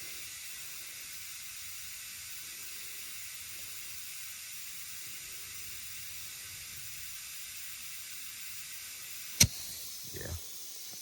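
An air compressor leaks, giving a faint, steady hiss of escaping air throughout, with a sharp click and a short burst of louder noise near the end.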